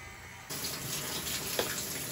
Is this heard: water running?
yes